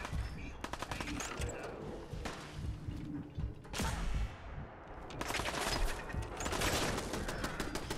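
Laser musket in the Fallout 4 video game cranked with mechanical creaking ratchet clicks, then fired in bursts of sharp, loud electronic shots, with dense clattering gunfire-like activity throughout.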